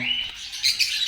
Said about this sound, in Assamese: চব লাভবাৰ হয় এইবিলাক।